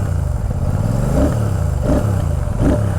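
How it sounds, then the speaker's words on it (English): Royal Enfield Classic 650 motorcycle exhaust, a close, steady low thumping idle with a few blips of throttle rising and falling, no voices over it. "listen to the exhaust note"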